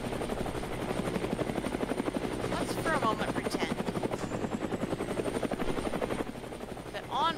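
A military helicopter in the Brick Rigs video game hovers with a steady, loud rotor chop and engine whine throughout, while someone talks over it.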